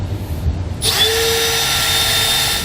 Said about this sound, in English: when you're drilling through the bed, you want to be careful that you double check underneath